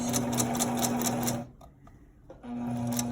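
A sewing machine runs along the shoulder seam of a sheer kimono jacket, fast and close with rhythmic mechanical clatter, stops for about a second, then starts stitching again.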